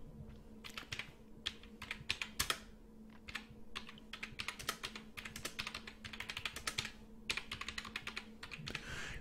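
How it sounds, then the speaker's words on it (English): Quiet typing on a computer keyboard while entering text into a QuickBooks memo field, irregular bursts of key clicks with short pauses between words, close and alone. "So we must type in the memo field"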